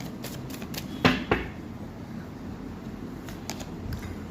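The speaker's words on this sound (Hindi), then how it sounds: "3 कार्ड निकालूंगी मैं यहाँ पे" Tarot cards being drawn and shuffled for a three-card reading, a few soft papery snaps and flicks with two sharper slaps near the middle, quiet and close, with no voices.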